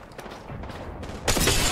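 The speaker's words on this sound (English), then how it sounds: "Enemy shields broke." An enemy shield shattering in Apex Legends, heard as a sudden bright, crackling break that bursts in after a run of muffled gunfire and lingers loudly to the end.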